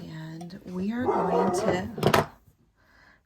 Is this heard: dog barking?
yes